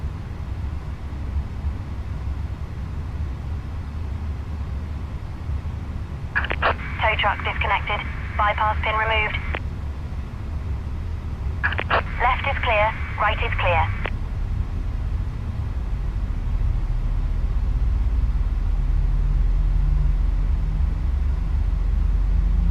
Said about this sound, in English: So you can hear, you'll hear engine 1 now fire up.